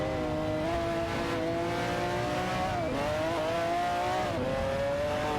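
A Ferrari F40 LM race car howls at high revs in a racing video game, its engine tone climbing steadily and dipping at two quick gear changes, loud and close with other cars droning underneath.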